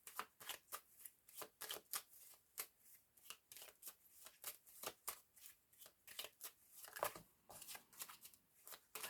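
Tarot cards shuffled by hand in quick riffling bursts, a rapid series of crisp papery flutters repeating in an uneven rhythm, close and fairly quiet with no talking.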